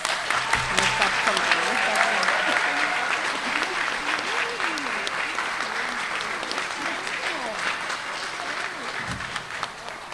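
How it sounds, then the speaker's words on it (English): A graduation audience applauds warmly for about ten seconds, a dense wash of many hands clapping close and steady that slowly fades toward the end. "Let's give her another round of applause."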